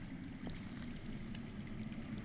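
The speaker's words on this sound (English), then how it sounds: "I hear water. From underground." Underground water flows somewhere within a Game of Thrones Telltale game scene, a faint, steady wash of running water heard alone and continuously.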